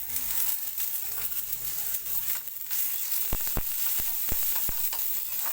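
Food fries in a little oil with a steady, close sizzle, and a handful of sharp clicks and taps, like a spoon against the pan, land near the end.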